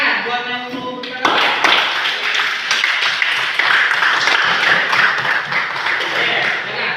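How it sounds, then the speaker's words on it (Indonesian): Students in a classroom clap for a classmate about to speak, a sharp burst of many hands that rises suddenly and continues in a dense, steady patter, with a voice heard just before it starts. "Tepuk tangan buat yang mau berbicara"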